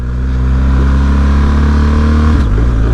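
BMW R 1250 GS motorcycle with shaft drive accelerating on a street, its engine revving loudly and steadily close by, with a pitch drop near the end as it shifts gears; no talking.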